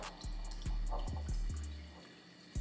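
Water glugs out of a homemade soda bottle in a series of distinct, close gurgling pulses, each burst followed by a steady trickle, with no talking.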